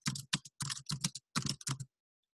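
Fingers typing on a computer keyboard in short bursts of clustered key clicks with brief pauses between, close and fairly quiet, ending in silence.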